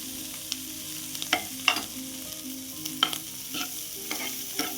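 Boiled sweet corn kernels roast in a pan, a soft steady sizzle broken by scattered clicks and scrapes as a spatula stirs them, close and fairly quiet.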